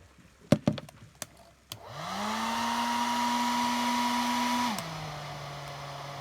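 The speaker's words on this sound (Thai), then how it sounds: "ผมจะใช้โบเวอร์เป่า" Electric blower starts with a whoosh and a rising hum, then blows steadily for about three seconds before dropping to a lower running tone; a few sharp knocks come just before it starts, while temperature transmitter settings are being adjusted.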